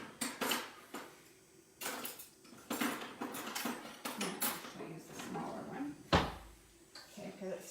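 Metal cutlery clattering and jingling while someone rummages through a kitchen drawer of serving forks, with drawer and cupboard knocks and a thud near the end, under intermittent talk.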